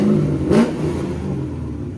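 A 6.2-litre LS3 V8 swapped into a 1999 C5 Corvette convertible blips once with a short, loud rev, then settles back to a deep, rumbling idle close up.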